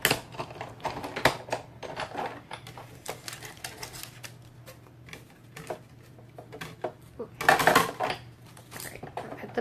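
A Big Shot die-cutting machine has cutting plates cranked through it, giving scattered clicks, clatters and plastic knocks over a low hum, with a louder grinding burst near the end.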